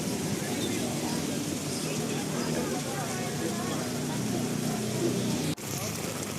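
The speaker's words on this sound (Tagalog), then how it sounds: "so, malakas na po ang ulan guys" Steady, dense roar of heavy rain pouring down in Divisoria, Manila, constant throughout with a brief dip near the end; a voice talks faintly underneath.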